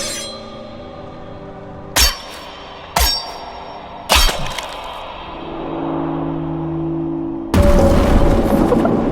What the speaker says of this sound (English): That bell needs to come down, and you'll see why in a moment.